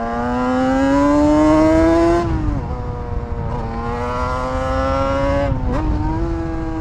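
A 1988 Yamaha TDR 240 motorcycle engine revs high and close, its pitch climbing steadily for two seconds, dropping as the throttle eases, then holding a steady mid-high drone with a brief sharp blip near the end.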